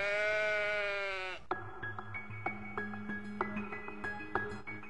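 A sheep lets out one long wavering bleat, close and loud, followed by a soft, sparse musical backing of plucked notes with no voices.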